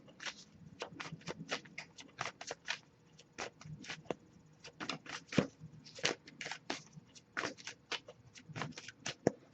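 Quick, crisp riffling bursts of tarot cards being shuffled, repeated over and over in an uneven rhythm, close and fairly quiet.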